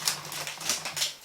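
Scissors snip open a bag of American snack treats in a series of quick, crisp cuts at close range, with no talking over them.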